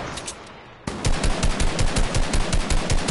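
Rapid automatic gunfire in a first-person shooter, a steady burst of close, loud shots in quick rhythm that starts abruptly after a short quieter moment and keeps hammering to the end.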